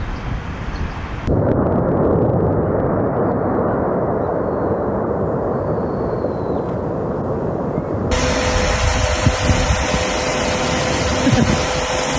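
A deep, continuous roar of Japan's Sakurajima volcano erupting rumbles without pause, broad and powerful, its texture shifting partway through with a brighter hiss layered on top.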